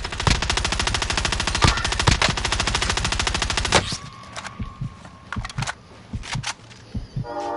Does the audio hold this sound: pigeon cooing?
no